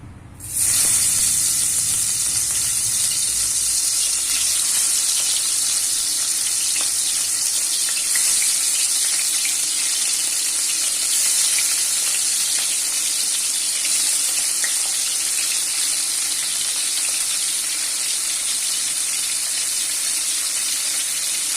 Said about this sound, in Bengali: তেলটা ভালো করে গরম হয়ে গেলে মাছগুলো তেলে দিয়ে দেব।